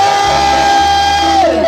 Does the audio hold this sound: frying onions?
no